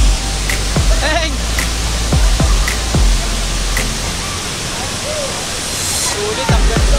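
Taytay Falls in Majayjay, Laguna, a waterfall pounding down in a loud, dense, constant roar close by, with occasional splashes and short exclamations from people near the water.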